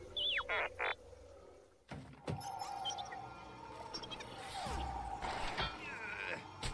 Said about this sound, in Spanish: ¡Hay una rana!